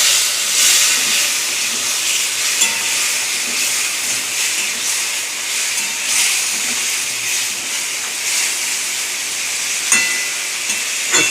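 Water poured into a hot pan of coriander, cumin, chili and turmeric gives off a loud, steady hiss and sizzle that carries on without a break, with a few small pops and clinks along the way.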